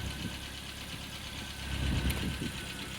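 A restored 1977 MG Midget 1500 idling, a quiet steady tickover with a soft low rumble and a faint hiss, a slight swell midway, no voices.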